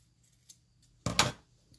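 Fabric being cut with scissors for a hair scrunchie: a single close, crisp snipping crunch about a quarter-second long, after a faint earlier snip and near-silence.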